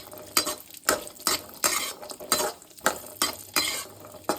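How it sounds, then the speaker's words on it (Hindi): Moong dal frying on a low gas flame in a pan, stirred with a utensil: rhythmic scraping strokes about twice a second over a soft sizzle, close by. "सिम गैस पर ही हमने ये फ्राई करने हैं।"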